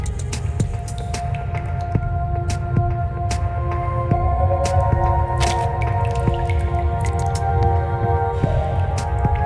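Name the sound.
water dripping from the ceiling in the video game Reverse: 1999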